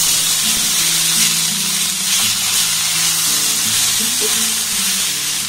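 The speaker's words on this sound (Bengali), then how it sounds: "দিয়ে দেবো 2টো আলু টুকরো টুকরো করে কেটে আমি সিদ্ধ করে রেখেছিলাম। সেই সিদ্ধ করা আলুটা আমি দিয়ে দেবো।" Boiled potato pieces go into a hot frying pan with oil, giving a loud, continuous close sizzle with faint scraping beneath.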